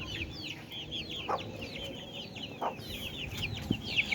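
Young chicks peep in a quick, high chatter, with a few low clucks breaking through now and then, all fairly faint over a steady background noise.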